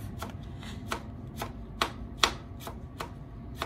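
A knife chops through a tight bundle of cilantro on a board for guacamole, a steady run of about ten crisp, close cuts over low background hum.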